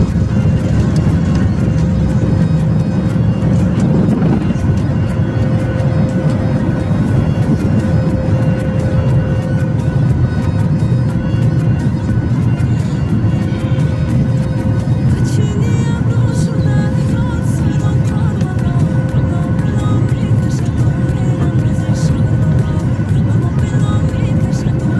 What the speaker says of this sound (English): now we are taking off from Dubai International Airport